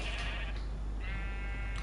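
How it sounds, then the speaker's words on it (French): A brown sheep in the Minecraft video game gives a clear, close bleat, wavering and drawn out, alone against a steady low background hum. "Voilà, un mouton marron."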